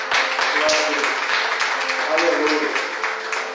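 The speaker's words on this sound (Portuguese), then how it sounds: "Eu não sei se essa palma foi para mim" A church congregation clapping during a service, dense overlapping applause sustained across the clip, fairly loud and near, while a voice speaks over it.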